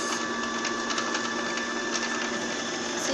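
A Brother JS1410 sewing machine runs steadily while winding a bobbin, giving a continuous mechanical whir with a faint rhythmic ticking, close and fairly loud, with no talking throughout.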